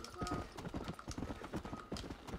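Hooves of the apocalypse horse in Red Dead Redemption Undead Nightmare clop in a quick galloping rhythm, fairly quiet, with a short whinny near the start.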